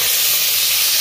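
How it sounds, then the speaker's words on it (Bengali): Steam hisses out in a loud, steady rush as the lid comes off a pan of pabda fish curry with bori, filling the whole second without a break. "ঢাকা খুলছি।"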